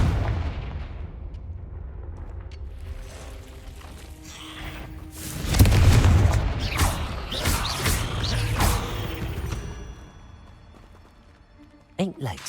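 In Hogwarts Legacy, a Confringo spell fires and bursts into a loud, booming explosion with crackling debris that swells and then fades over several seconds, followed by a sharp impact near the end; a voice speaks during the game.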